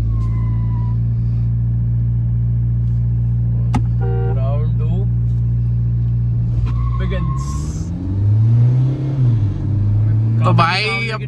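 Toyota Fortuner and Mahindra Scorpio-N SUVs side by side in a drag race, a steady loud engine drone with rising revs late on, heard from inside a cabin while people talk throughout.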